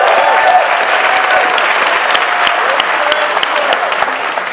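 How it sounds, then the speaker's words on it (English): Audience applause after a startup founder's introduction at a fireside chat event: dense, steady clapping from a crowd, loud and sustained throughout with scattered cheers. "Let's give Sebastian a big round of applause."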